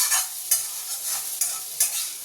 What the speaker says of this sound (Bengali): ছেলে পড়ে আসলো ওর জন্য একটু ম্যাগি ফ্রাই করে দিচ্ছি